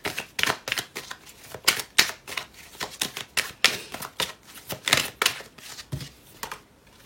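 Tarot cards drawn and laid down one after another, a quick run of crisp snapping, flicking strikes in an irregular rhythm, close and fairly loud with no talking.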